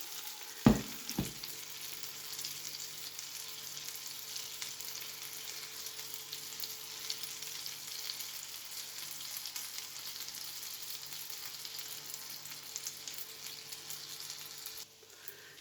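Mutton gola kabab fries in a pan over a medium flame, giving a soft, steady sizzle throughout with a couple of sharp knocks near the start.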